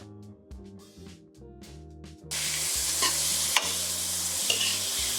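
Sliced onions hit hot oil with mustard seeds, cumin and chana dal while cooking egg bhurji; a quiet stretch gives way to a sudden, steady sizzle that carries on close and loud, with occasional stirring scrapes.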